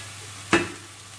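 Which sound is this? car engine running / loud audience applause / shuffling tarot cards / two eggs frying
two eggs frying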